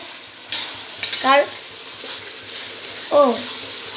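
Chicken pieces going into a hot pan for chilli chicken, with a soft background sizzle, a few clinks and stirring scrapes, and brief voices in the room.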